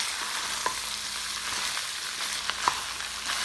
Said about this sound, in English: Now I added 1 can of tomato paste, so I'm gonna stir that through.